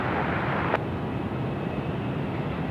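A BAe 146 jet landing at night on runway 16 right at Sydney Airport gives a steady, loud broadband roar that holds evenly throughout, with one brief sharp tick early on.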